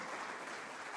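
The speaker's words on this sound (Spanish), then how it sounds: "Dele una ofrenda de palmas al Señor." A church congregation applauds during a Spanish-language sermon, a continuous wash of many hands clapping at moderate distance, fairly faint and even throughout.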